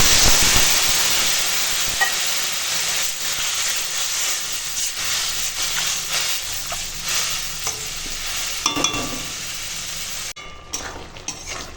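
Water hits a hot pan of potatoes and mussels, setting off a steady loud sizzle and hissing steam that fades slowly, with a few clinks near the end.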